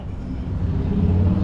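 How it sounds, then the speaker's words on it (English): A motorcycle passes outside near a diner, a broad low engine roar that swells steadily over a second and a half, loud and close, with no talk over it. "That was a motorcycle."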